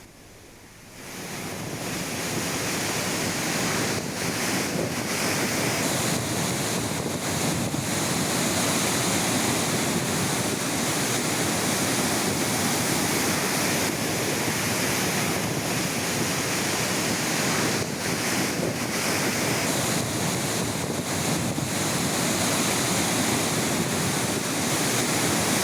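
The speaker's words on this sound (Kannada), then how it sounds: "ಈ ಕಾರಣಕ್ಕಾಗಿ ನೀರು ಉಕ್ಕಿ ಹರಿತಾ ಇದೆ." Water overflowing the KRS dam on the Kaveri river after heavy rain, a loud, steady roaring rush that swells in within the first second and holds unbroken, with wind buffeting the microphone and no voices.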